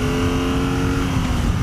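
BMW R nineT motorcycle engine revving as the throttle opens, a loud, steady close-up drone with a constant pitch through the short clip.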